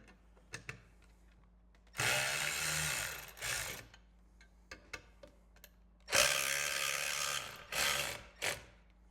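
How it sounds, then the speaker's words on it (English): A hand ratchet tightens the headlight bracket bolts on a motorcycle fairing during a Custom Dynamics Shark Demon 2 headlight install, with two long bursts of rapid clicking separated by short isolated clicks and taps. "I'm gonna grab that ratchet and we'll tighten those final 2 up"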